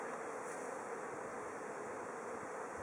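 Honey bees swarm around hive frames being lifted and shaken, giving a dense, steady buzzing hum that fills the whole stretch with no voices.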